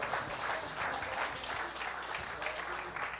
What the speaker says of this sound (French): Jeunes gens, je vous encourage à acclamer ce message.